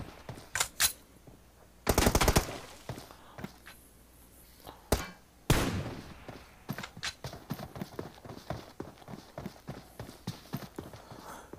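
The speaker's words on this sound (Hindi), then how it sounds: "नॉट योर बैड बॉय की तरफ से अनबिलीवेबल ड्रॉप शॉट मार के पहला किल अपने नाम किया नॉट योर बैड बॉय ने।" Gunfire in a PUBG-style team deathmatch game, with loud bursts of automatic fire and single shots followed by rapid, closely spaced cracks and rattles.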